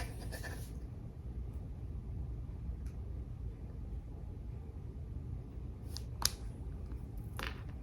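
Cutting through a strap makes a few sharp, short snips and clicks near the end, close by, heard over a constant low rumbling background hum with no talking.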